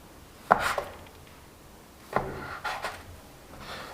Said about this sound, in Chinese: 直接整理成长条状，切分成4等份